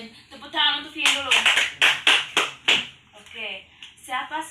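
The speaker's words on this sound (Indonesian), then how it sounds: "Tepuk tangan untuk Pin dulu." In a primary school classroom, children give a classmate a round of rhythmic clapping, sharp patterned claps mixed with their chanting voices, close and lively.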